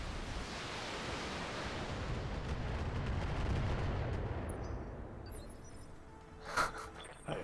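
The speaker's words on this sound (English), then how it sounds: "stray shots do just destroy buildings" Weapon fire leveling city buildings in the Battletech video game, a dense roaring rumble of destruction with a few sharp cracks near the end, loud and without talk.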